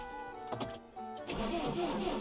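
A tractor engine cranks briefly, catches and settles into a steady running rumble on a cold morning before heading out to the field.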